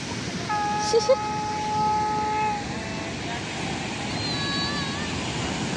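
Sea waves wash in on Puri beach at dusk, a soft, continuous rushing surf, with a few distant whistle-like tones and occasional quiet voices nearby.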